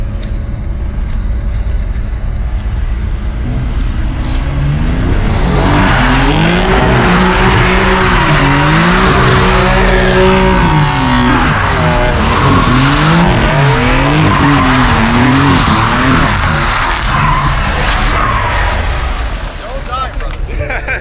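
A BMW M4 drifting with loud, sustained tire squeal and a revving engine rising and falling in waves, close and intense through most of the stretch; people's voices are also present.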